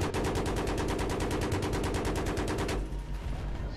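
Rapid automatic gunfire in the video game Battlefield 3, a loud, even burst of closely spaced shots lasting nearly three seconds before cutting off abruptly into a fading tail.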